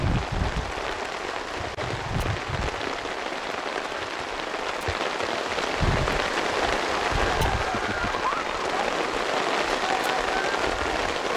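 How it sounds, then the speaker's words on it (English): Heavy rain pelts steadily on umbrellas at an outdoor girls' soccer game, a loud, dense patter close by with occasional sharper drops and a faint voice under the downpour. "I think the listeners at home can hear the rain pelting off our umbrellas."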